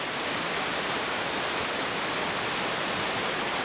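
Creek water at Minnehaha Falls rushes in a steady, dense broadband hiss of moderate loudness. The flow stays unbroken throughout, with no voices.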